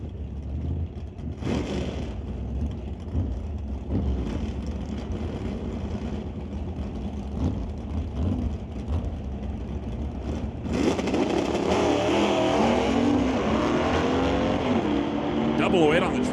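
Drag race cars, a Ford Comet and a 1967 Ford Mustang, at an ET series bracket race. A commentator talks over a low idling rumble before the engines surge into a loud, rising roar that carries to the end.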